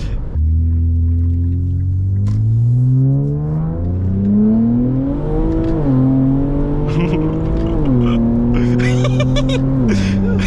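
Infiniti Q50 all-wheel drive car launching hard and accelerating through several gears, loud engine note rising in pitch with shift drops, heard from inside the cabin with brief voices over it.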